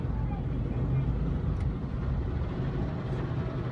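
An automatic car wash machine in Japan starting up around a parked car, a steady low rumbling drone of motors and spraying water with a faint brief hiss midway and someone talking over it.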